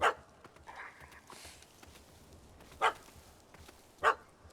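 A dog in The Witcher 3 barks at a cat stuck up a tree, giving three sharp, separate barks spaced a few seconds apart, fairly close, over quiet game ambience.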